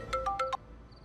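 A short electronic phone ringtone plays a quick four-note tonal chime, clear and close, then stops, with no voices over it.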